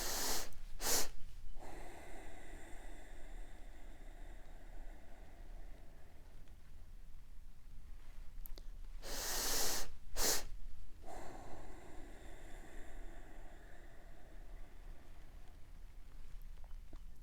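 Slow, deep breaths during a guided meditation: two sharp nasal inhale-exhale bursts near the start and another pair midway, close and loud against a quiet background hiss.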